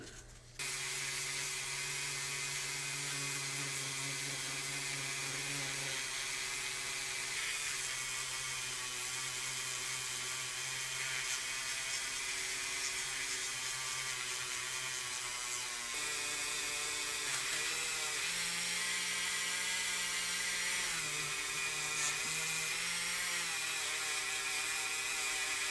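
A rotary tool polishes out 2000-grit scratches on a small vintage Matchbox off-road van. Its high, steady motor whine with a grinding edge holds for the whole stretch, shifting pitch slightly as the pressure changes, close and without speech.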